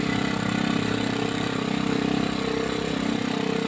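Three-wheeled cargo truck engine running steadily in first slow gear, a close, even mid-pitched engine drone with fast rhythmic pulsing and no pauses.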